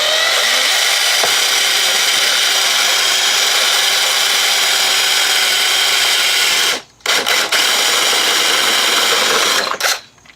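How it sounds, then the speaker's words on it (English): A drill with a 1/2 inch bit grinds loudly and steadily through aluminum with a high, gritty whine, briefly stopping partway and cutting out again near the end. "So now I got a 1/2 inch drill bit, which I might have to remount just a little bit,"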